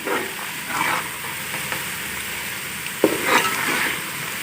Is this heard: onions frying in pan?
yes